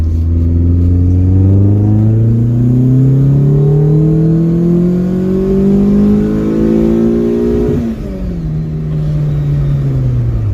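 A Mk2 Golf GTI 16v engine revs hard in second gear and climbs steadily in pitch, loud and close, then drops briefly as it shifts and pulls again.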